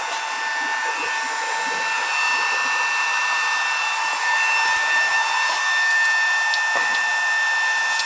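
A pump drains a leaking water heater, producing a continuous, fairly loud motorized whir with a steady high whine and faint clicks, alone and unchanging throughout.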